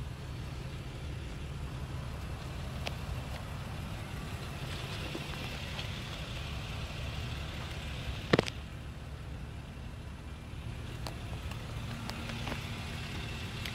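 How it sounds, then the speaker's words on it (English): A 2011 Acura MDX engine idles in a low, smooth and quiet steady drone with one sharp click partway through and no talking. "And I do have the car running right now, so it purrs like a kitten."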